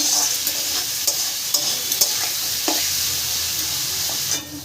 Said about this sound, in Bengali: নুন আর হলুদ দিয়ে ভালো করে নাড়াচাড়া করে নেবো